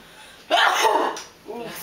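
A single sneeze cuts through a quiet classroom, a loud burst about a second long followed by a softer trailing sound.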